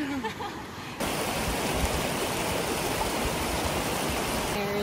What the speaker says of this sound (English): They're crossing the river